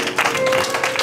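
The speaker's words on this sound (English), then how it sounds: "Clap your hands. Give the Lord praise." A church congregation claps during worship, a steady dense wash of many hands close and continuous for about a second, with faint voices mixed in.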